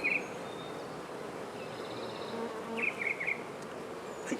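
A honey bee swarm buzzing outdoors, a soft continuous drone with a few brighter passing buzzes near and far, alone without talk.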